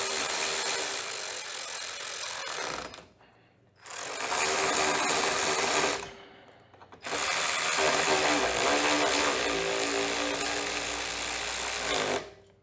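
Bolts holding an air filter onto a small engine's carburetor are driven tight with a ratcheting power tool, heard in three loud, close bursts separated by brief pauses.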